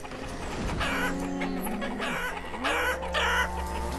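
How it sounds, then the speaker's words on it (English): Chickens cluck continuously in the farming city-builder game Banished, a busy flock of clucks and squawks over a low steady background drone. "All kinds of chickens."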